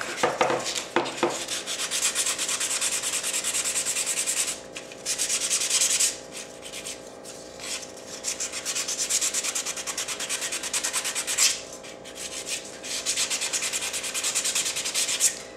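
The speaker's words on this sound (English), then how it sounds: "you're just gonna sand all around the whole thing, the edges, and give it a nice distressed look" Fine sandpaper rubs steadily back and forth over cardboard block letters, a close, continuous scratchy sanding with brief pauses and shifts in stroke along the edges.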